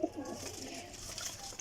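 Pigeons kept for sale coo softly in a short, low burst at the start, followed by faint chirpy bird sounds over a steady, quiet background.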